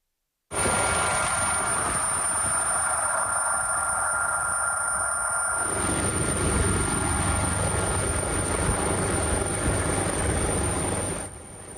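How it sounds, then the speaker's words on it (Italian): A Vigili del Fuoco Drago firefighting helicopter flies over the Borca di Cadore landslide, its rotor and engine giving a steady, loud, close broadband roar that holds unbroken for the whole stretch. "Sono le immagini girate dall'alto dall'elicottero Drago dei Vigili del Fuoco"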